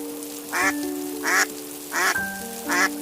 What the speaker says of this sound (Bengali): কিরে বল্টু, হাঁসগুলো তো আওয়াজ করছে কেন?